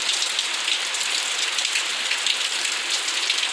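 Heavy rain pours steadily at night in Joaquim Gomes, Alagoas, a dense, even hiss of drops drumming on surfaces with no voices or other sounds.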